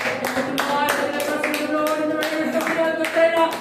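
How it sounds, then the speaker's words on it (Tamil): A church congregation at a Sunday service claps their hands in a steady, fast rhythmic pattern, many hands together, loud and close, with voices and music-like tones underneath. "கைத்தட்டி கர்த்தரை மகிமைப்படுத்துகிறோம்."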